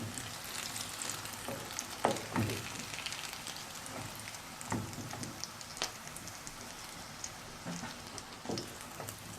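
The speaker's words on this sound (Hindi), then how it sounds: "अब इन्हें निकालेंगे और बाकी कबाब इसी तरीके से फ्राई कर लेंगे।" Beef shami kebabs fry in oil with a steady crackling sizzle and scattered sharp pops throughout, close and continuous.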